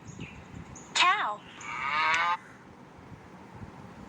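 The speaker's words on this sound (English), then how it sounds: "Cow." A cow moos once in a kids' learning app, a short bright call followed by a longer drawn-out moo, loud and close over faint background noise.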